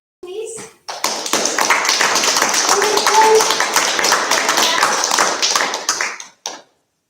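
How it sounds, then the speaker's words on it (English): Sustained audience applause and clapping after a student performance of the Snow Dragons in Spring City, dense hand claps building for several seconds and then cutting off abruptly, with a brief cheer or voice at the start. "So one more round of applause for our students, please."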